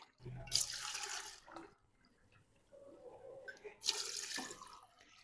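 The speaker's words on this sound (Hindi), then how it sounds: "और अब इसमें पानी डाल देंगे" Water splashes and pours into a pressure cooker pot of cauliflower and meat curry in two bursts, a steady rushing stream with a quieter pause between them, close by.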